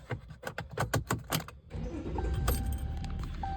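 Keys jangle and rattle for a moment before a diesel truck engine cranks and fires up with no muffler, settling into a loud, rough, rumbling idle close by.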